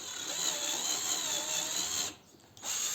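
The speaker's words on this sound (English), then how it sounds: "we'll drill a hole in here." Power drill boring a hole into a PC case, a steady high-pitched whine that runs continuously, stops briefly for about half a second, then starts again, close and alone without talk.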